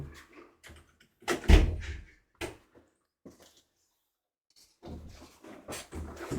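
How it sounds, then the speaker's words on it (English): An indoor door is shut and locked, producing a few sharp clunks and knocks spaced among quieter shuffling sounds and short silent gaps. "Lock that door."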